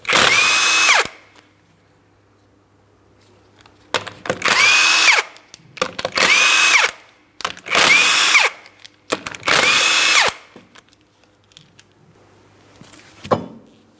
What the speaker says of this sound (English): remove all 5 of your 19mm lug nuts so we can get the wheel off of here